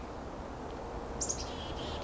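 Bird song calls briefly, a short bright chirp or two rising over a steady outdoor background hiss and low rumble, faint and somewhat distant, with no talking.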